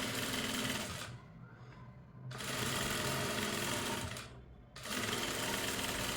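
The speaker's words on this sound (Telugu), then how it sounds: "చూడండి ఫ్రెండ్స్, ఇలా స్టిచ్ చేసుకుంటూ వెళ్ళిపోవాలి" A sewing machine stitches a cloth blouse dori in two long, loud, close runs of rapid whirring, separated by short pauses.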